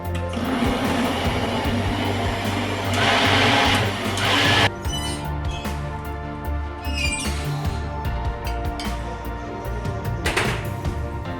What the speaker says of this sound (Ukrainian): Тепер нам треба цю масу для сирного супа збити у блендері.